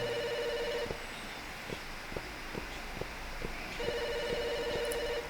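A telephone rings in the video game Firework, with two trilling bursts separated by a pause. Soft, evenly spaced footstep-like thumps and a low background hum run beneath the rings.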